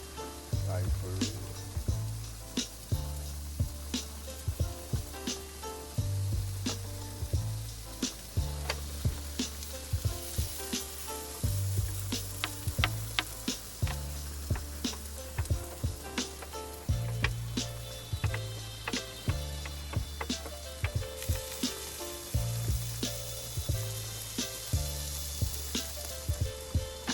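Potatoes and eggs sauté on a griddle in a van during a thunderstorm, giving a continuous sizzling hiss with scraping clicks. Rhythmic music plays loudly throughout.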